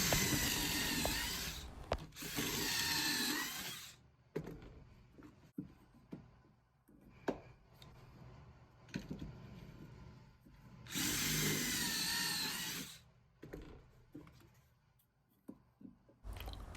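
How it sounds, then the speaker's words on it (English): A power drill bores pocket holes into 2 1/2 inch wide wood pieces for a farmhouse chair, two loud whining bursts of a few seconds each separated by quieter clicks and handling knocks, close by with no talk. "Now we'll be drilling some pocket holes"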